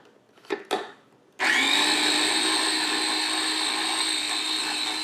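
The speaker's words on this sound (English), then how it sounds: "Just put it in a blender and let it ride." A couple of brief knocks come first, then a blender kicks on and whirs loudly and steadily while blending basil pesto.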